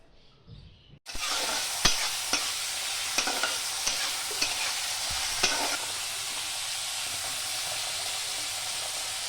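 Food frying in a pan starts abruptly as a loud, steady sizzle and hiss, with occasional stirring clinks and scrapes, continuing throughout.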